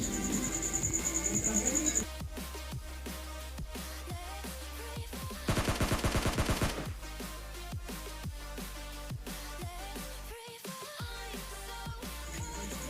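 Gunfire in PUBG Mobile Lite during a solo-versus-squad rush, a dense burst of rapid shots standing out loudly over steady game sound and music-like background.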